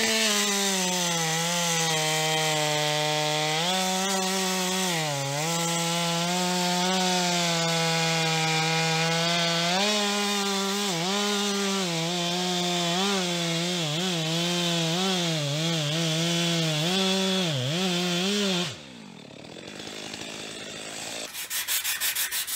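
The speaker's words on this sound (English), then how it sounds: "So let's strip this out, get it sanded, get it primed and sanded again" A power sander stripping paint from a car body, a loud continuous whirring drone whose pitch wavers as the tool is worked, ending abruptly and followed by brief rubbing and scraping.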